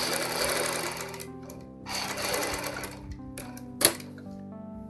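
Sewing machine stitching a ladies' coat collar for a kurti and suit, two close bursts of rapid whirring stitches separated by short pauses, then a sharp click and quiet.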